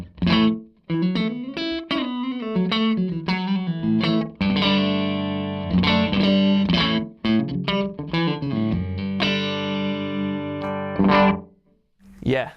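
A clean guitar run through a Zander Circuitry Tape Deck delay pedal with the time knob turned fully down gives a short slapback tape echo that thickens each note, with chords and single lines played loud and close, continuous for twelve seconds before a final stop.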